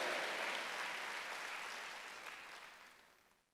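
A congregation at a Wednesday church worship service clapping together, a dense spread of many hands that starts full and gradually thins and fades away toward the end.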